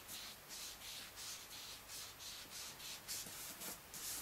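Ink is gently rubbed onto cardstock in a soft, faint, rhythmic swishing, with about a dozen short brushing strokes in steady succession.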